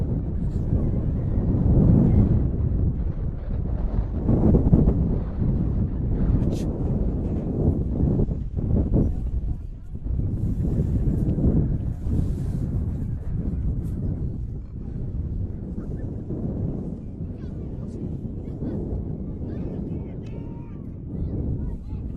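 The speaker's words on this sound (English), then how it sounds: "We're almost being blown off this platform here, Pat." Strong wind buffets an exposed commentary platform at an NPL football match between Gold Coast Knights and Brisbane Strikers, a loud, continuous low roar and rumble against the microphone that persists throughout and drowns out other detail.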